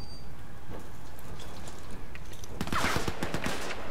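Gunfire and a grenade in the Crysis 3 video game: a rattling burst of shots and a blast rise loudly in the last second and a half, after a quieter stretch of scattered game noise, with no speech.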